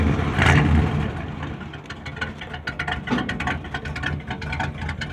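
A 1976 Ford F150 engine idles and is briefly revved, a mid-pitched rumble that swells and settles, close by with some clicking and workshop noise around it.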